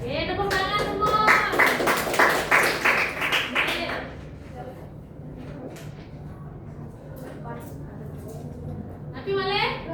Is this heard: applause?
yes